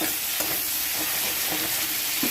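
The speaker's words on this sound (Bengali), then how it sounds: "আরও 2 মিনিট ধরে ভালোভাবে ভেজে নিচ্ছি, তাহলে ফুলকপিটা পুরোপুরি সেদ্ধ হয়ে যাবে" Cauliflower pieces frying in oil, a dense continuous sizzle with a few faint stirring taps, close and steady throughout.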